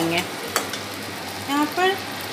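Besan mixture with Kashmiri red chili roasting in a pan, a gentle sizzle under several sharp scraping strokes of a stirring spoon, close and moderately loud.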